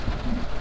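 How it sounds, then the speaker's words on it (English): Steady rain falling in Florida, a continuous close wash of drops on a surface with no voices present. "it wouldn't be a vlog in Florida if it wasn't raining"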